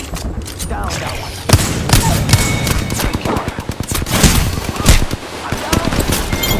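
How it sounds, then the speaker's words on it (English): Rapid bursts of gunfire in Apex Legends, with loud overlapping shots and booms of varying intensity heard up close throughout. "The enemies are shooting at me."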